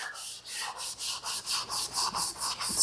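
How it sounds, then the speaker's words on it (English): A yellow C3 Corvette bumper is hand-sanded before painting, a close, rhythmic scrubbing with about a dozen regular back-and-forth strokes, each a gritty rasp, with no talking. "I do believe sanding it down like this is good"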